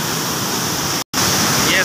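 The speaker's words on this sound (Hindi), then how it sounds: "ये है पानी और यहाँ पे गिर रहा है भाई ये पानी" Floodwater rushes and falls at Taunsa Barrage in a loud, steady roar of churning water that breaks off for a brief moment and then resumes.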